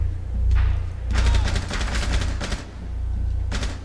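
Rapid gunshots in Rainbow Six Siege ring out in quick bursts, loud and close, with sharp cracks clustered between about one and three seconds and a final burst near the end.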